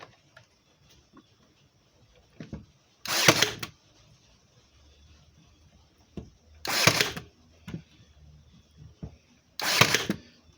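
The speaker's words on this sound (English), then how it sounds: "I have my cordless brad gun. I'm going to be shooting 1-inch brads out of it." Three sharp, loud shots from a cordless brad nailer driving 1-inch brads into wood for a birdhouse, spaced a few seconds apart with near-silence and faint handling noises between them.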